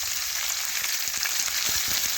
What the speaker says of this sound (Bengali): এভাবে নাড়াচাড়া করে পেঁয়াজ একটু ভেজে নিচ্ছি